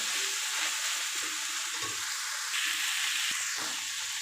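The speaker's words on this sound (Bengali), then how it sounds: "এবার আমি মোচাটা হালকা হালকা একটু ভাজা হবে।" Steady, dense sizzling of banana flower frying in a pan, continuous and fairly close, with a few faint clinks of a utensil.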